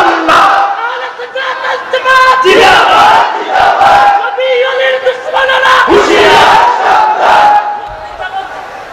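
Large crowd at an outdoor Islamic religious gathering shouting a takbir response in loud, repeated bursts of massed voices, rising and falling in waves across the whole stretch.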